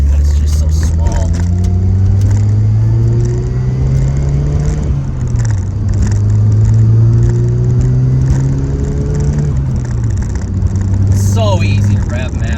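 Pontiac Solstice GXP engine revving loudly, with pitch rising and dropping repeatedly as it rev matches through shifts while driving with the top up, a steady close drone throughout and brief speech near the end.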